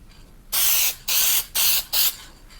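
Four short, sharp hissing bursts of spray paint lay a quick flash coat onto car emblems, close and loud, each burst about a third of a second with brief pauses between.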